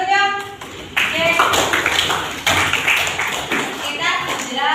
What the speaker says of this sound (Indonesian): Kasih tepuk tangannya dulu dong.